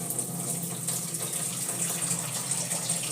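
Tap water runs in a steady, even gush while something is washed in a home kitchen, a constant close rushing stream with no pauses and no talking.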